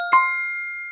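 A phone notification chime sounds once, a clean bright ding that rings out and fades slowly over about a second, close and alone.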